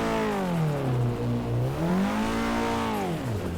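A drift car in the Assetto Corsa racing game revs its engine repeatedly, the pitch climbing and falling in smooth waves over a few seconds, loud and up close with no talk.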